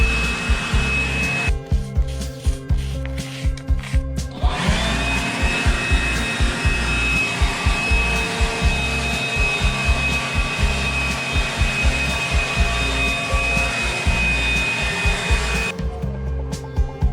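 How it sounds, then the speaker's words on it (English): A blower clears loose debris off a concrete patio before an overlay, a steady loud whooshing roar running throughout with brief dips and surges as the nozzle moves, no voices. "we'll take a blower, blow out all the loose debris."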